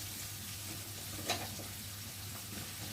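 Soft, steady sizzling of sliced potatoes dropped into a pan of frying onions for a Bengali water spinach and prawn dish, with a brief stirring clatter midway over a low hum.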